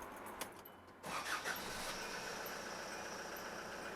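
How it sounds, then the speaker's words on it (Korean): A diesel car engine cranks briefly and catches, then settles into a steady, fairly quiet idle. "우선 시동을 한번 걸어 주세요."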